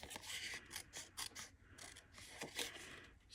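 Scissors trim printer paper by hand in a crafting setup, giving a series of soft close snips and rasping cuts in an uneven rhythm, quiet with no talking.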